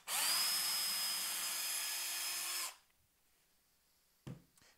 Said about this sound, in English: you go ahead and drill the pilot hole for the screw